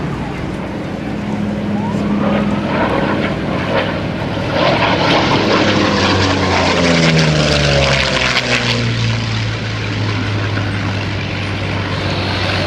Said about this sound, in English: Sean Carroll diving in right now, and we'll listen one more time